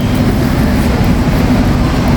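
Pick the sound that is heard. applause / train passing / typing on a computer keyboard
train passing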